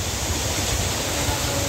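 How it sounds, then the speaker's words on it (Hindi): Very heavy monsoon downpour, a dense, steady roar of rain with water pouring off a metal roof sheet, loud and unbroken throughout with no voices. "बहुत ही बेहतरीन भयानक बारिश हो रही है"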